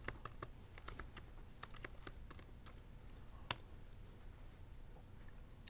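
Typing on a computer keyboard while entering fraction arithmetic into a program: quick bursts of crisp keystrokes at first, then thinning to a few scattered taps over a steady low background.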